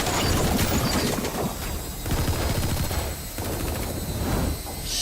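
Dense, continuous gunfire in the video game Metal Gear Solid V: The Phantom Pain, loud rapid automatic bursts running almost without pause, with slight dips between volleys.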